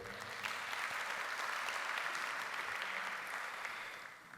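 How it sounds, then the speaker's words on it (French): Warm applause from the audience at a graduation ceremony: sustained, even clapping from many hands that holds steady and tapers slightly at the end, heard alone at moderate distance. "Ils méritent également vos applaudissements chaleureux"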